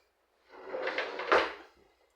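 A lockable drawer on a newly finished custom cabinet slides open or shut in one smooth, close rumbling run, ending with a firmer knock.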